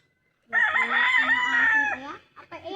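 A rooster gives one drawn-out crow lasting about a second and a half, fairly close and clear, followed by a couple of short tailing notes.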